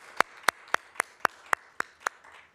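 A single person claps eight times at an even pace for the award winners at a virtual city State of the City event. The claps are sharp, close and isolated, with no crowd.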